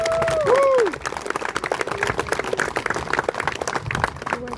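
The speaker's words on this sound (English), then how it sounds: "a big round of applause for all of our bronze badge awarders today" A crowd at a joint military award ceremony applauds the bronze badge recipients, sustained dense clapping following a brief whistling tone at the start.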